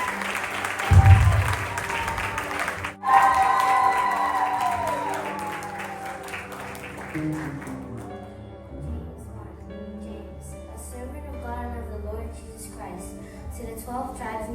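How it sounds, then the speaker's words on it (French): Audience applause at a gathering, a dense wash of clapping that swells loudly at first and then thins and fades over several seconds, with voices and music-like tones mixed underneath. "Applaudissez."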